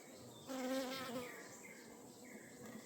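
Bees buzz in a greenhouse hive, a steady close drone that swells briefly and then settles into a softer hum with no voices.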